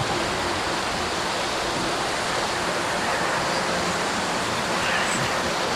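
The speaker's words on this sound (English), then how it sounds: "So the fresh water is coming in through these 3 hoses" Fresh water pours from three hoses into a sand washer in a sand separating system, making a steady, dense rushing and splashing that stays even in loudness throughout, close by and with no voices.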